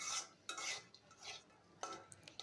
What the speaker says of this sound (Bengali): এগুলোকে আলুর সাথে একটু নেড়েচেড়ে ভেজে নিচ্ছি।